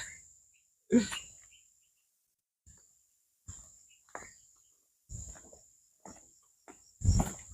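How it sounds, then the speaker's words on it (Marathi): At midday on Ajinkyatara hill fort in Satara, a thin, shrill insect-like chirring sounds in repeated bursts with short gaps, fairly faint, among scattered nearby thumps and rustles. "हा रातकिडीचा आवाज आहे"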